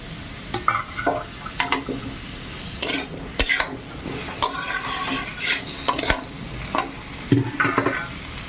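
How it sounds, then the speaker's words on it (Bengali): Marinated chicken hits a hot pan with vegetables and cumin paste for a chicken stew, sizzling under repeated bursts of spatula scraping and clattering against the metal pan, close and busy, with no talking. "আর মাংসটা যে ম্যারিনেট করে রেখেছিলাম দিয়ে দিলাম মাংসটা"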